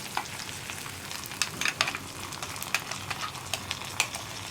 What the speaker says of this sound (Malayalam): അപ്പോൾ നമ്മുടെ വറവ് ഇതാ ഞാൻ ഇതാ കറിയിലേക്ക് ചേർക്കുകയാണ്.